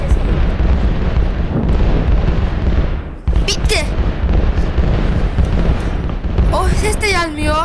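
Loud, continuous rumbling blasts of many TNT explosions in a video game, one after another, with a voice cutting in near the end.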